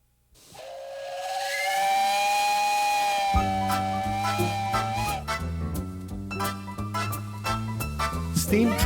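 A steam train whistle blows a long, loud, sustained tone over hissing steam, then gives way to rhythmic chuffing and mechanical clatter as the locomotive works, all close by with no talking.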